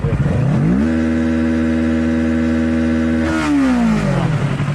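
A motorcycle engine revs hard and holds near its redline, a loud sustained whine that climbs, stays steady for a few seconds, then drops back down, close and with nothing else audible.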